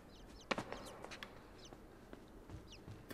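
Birds cluck repeatedly in the video game INSIDE, with several short clucks and squawks scattered across a quiet, dark ambient background, moderately near but soft.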